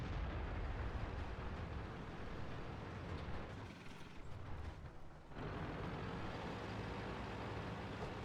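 In World of Tanks, a tank shell strikes with a dull, rumbling explosion, the blast wash filling a dense roar of engine and battle noise that dips briefly before surging back.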